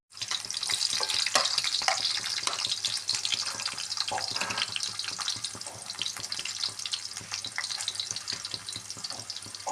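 Chopped ginger and garlic sizzle steadily in a pan with softened onion, making a close, constant frying hiss with light stirring scrapes and no talking.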